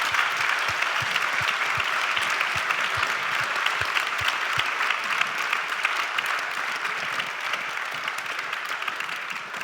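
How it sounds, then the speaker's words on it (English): Audience at a panel discussion applauds in a dense, steady wash of clapping that holds throughout, with faint low thumps early on. "So if you would join me in thanking our panelists by applauding."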